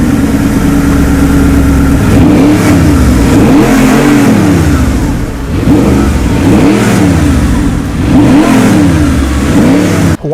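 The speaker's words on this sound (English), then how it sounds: "The engine combined with this exhaust sounds pretty incredible." Audi R8 with a V8 engine and a six-speed manual, revved repeatedly through its exhaust, loud and close, with rhythmic rising and falling sweeps.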